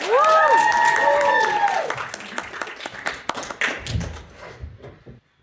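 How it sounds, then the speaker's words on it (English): A comedy showcase crowd applauds the sketch troupe the Dead Ducks, scattered claps and thumps rising after a loud voice and slowly thinning out to quiet. "can we get a huge round of applause for our sketch troupe, the Dead Ducks?"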